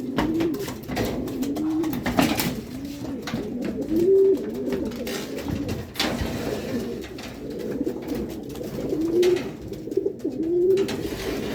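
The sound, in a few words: birds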